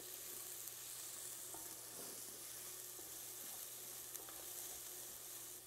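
Onions frying in a pan give a steady, soft sizzle, close and quiet, with a few faint stirring clicks and no talking.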